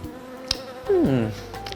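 A bumblebee buzzes close by in a single loud, brief swell with a falling pitch, set against a quiet outdoor background with faint clicks.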